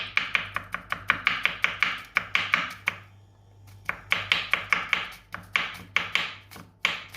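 Garlic is chopped into tiny bits with a knife on a board: rapid, sharp, evenly spaced chopping strokes, close and loud, with a short pause partway through before the chopping resumes.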